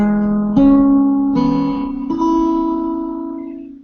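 Guitar chord played by picking each note separately across every string for a cowboy swing feel. Four plucked notes sound one after another, each left ringing so they overlap into a sustained chord, close and alone.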